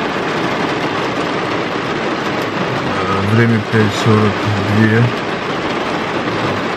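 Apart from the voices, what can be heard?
heavy downpour of rain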